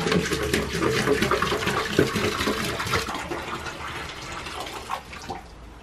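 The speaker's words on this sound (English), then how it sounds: "You hear Livy's getting you fresh water and you come a running?" Fresh water pouring into a livestock water trough, a close, splashing, gurgling rush that gradually softens and thins, with no talk over it.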